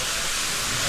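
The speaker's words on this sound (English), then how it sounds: "this is our one running steam locomotive that we are running today, and it is an engine from 1929" A 1929 steam locomotive at a railway heritage site hisses steam in a loud, continuous broadband rush, close by and sustained without a break.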